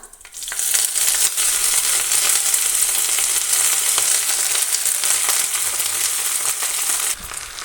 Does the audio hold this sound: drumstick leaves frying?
yes